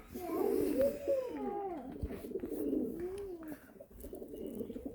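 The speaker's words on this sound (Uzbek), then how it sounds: "Yaxshi tevalikda uchyapti kaptarlar." Pigeons flying overhead in Margilan give soft, repeated rolling coos close by, with a few wingbeat flutters and fainter birdsong behind.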